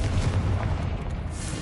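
A booming Confringo blast spell in Hogwarts Legacy hits with a loud, heavy low-end thump and lingering rumble, brief and alone without any voices.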